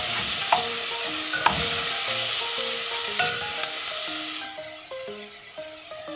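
Sliced chicken breast stir-frying in a pan over low heat, a steady bright sizzle throughout with clinks and scrapes of stirring.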